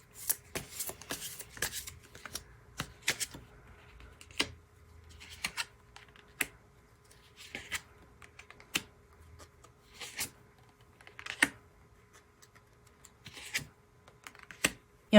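Tarot cards are shuffled and drawn at close range, giving quiet irregular flicks, soft slaps and brief riffles scattered over a low, faint background hum, with no talk.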